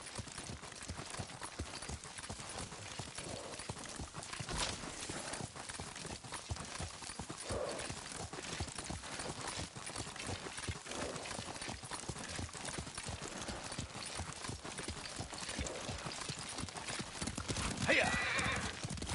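Horse hooves clip-clop in a steady rhythm as a rider travels on horseback in the game Ghost of Tsushima, the clopping continuous and fairly close under ongoing wind-like ambience, with a brief whinny near the end.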